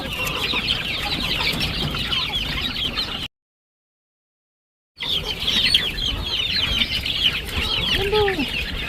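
A flock of chickens clucks and chatters continuously in a busy outdoor yard, moderately loud and close, broken by a brief silent gap, with faint voices in the background.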